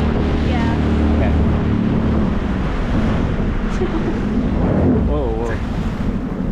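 A SeaDoo Spark Trixx personal watercraft pulls a wheelie on the Kennebecasis River in New Brunswick, its engine whining and revving under loud wind buffeting and splashing water, with a voice faintly present.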